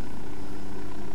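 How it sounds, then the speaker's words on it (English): A steady, loud video game helicopter rotor drone in Ghost Recon Wildlands, with a low chopping throb and engine whine, continuous throughout with no talking. "There's a helicopter there."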